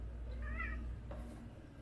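A house cat meows once indoors, a soft rising-and-falling cry followed by a brief chirp, quiet and alone.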